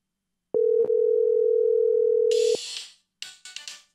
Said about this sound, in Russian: входящий звонок.